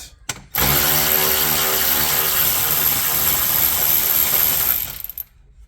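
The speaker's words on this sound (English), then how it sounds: "let's just start taking the bolts out first" A power ratchet spinning out 10 mm bolts from the dashboard of a Land Rover Range Rover Sport HSE, one continuous loud whirring burst of about four seconds, close by, after a couple of short clicks and before a brief tapering stop.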